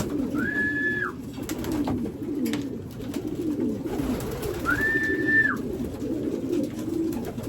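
A dove coos twice, a few seconds apart, over a steady bed of background chirping and rustle.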